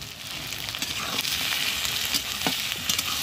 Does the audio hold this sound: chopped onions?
yes